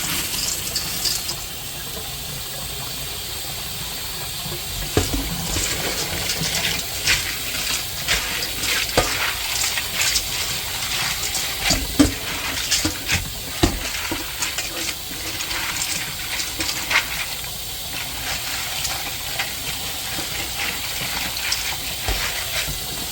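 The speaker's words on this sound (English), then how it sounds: "and wash our red beans" Tap water runs steadily over red beans being washed in a sink, a constant close splashing rush with occasional sharper clinks and sloshes throughout, no voices.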